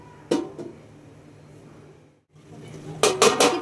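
A lid is set onto a cooking pot of rui fish curry with potatoes and water lily stems: one sharp metallic clink, a quiet pause, then a cluster of clattering metal knocks as the lid settles.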